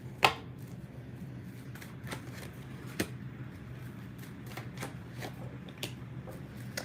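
Tarot cards shuffled by hand, heard as soft scattered riffles and taps, with a few sharper flicks over a steady low background hum and no talking.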